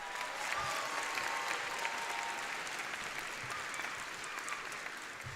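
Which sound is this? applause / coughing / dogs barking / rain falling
applause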